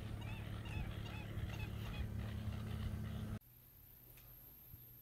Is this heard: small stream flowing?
no